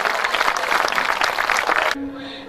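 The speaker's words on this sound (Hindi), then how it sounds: "एक बार जोरदार तालियां बजाकर बताइए कि आप मुझे सुन रहे हैं" An audience at a Hindi comedy poetry show (hasya kavi sammelan) claps loudly and steadily for about two seconds, then the applause stops abruptly, leaving a faint hum.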